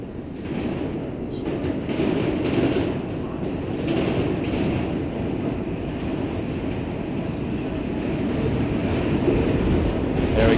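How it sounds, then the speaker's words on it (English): A New York City express subway train rolls over track switches after Times Square, a steady loud rumble of wheels and car noise with faint clicks throughout, close and continuous. "it's actually going to switch over to the express track after Times Square"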